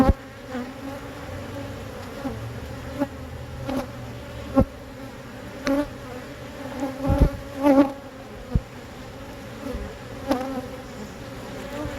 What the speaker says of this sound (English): There's a little bee here.